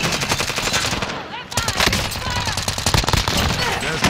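Rapid automatic assault rifle fire in a video game, dense bursts of gunshots running almost continuously with a brief lull, loud and close.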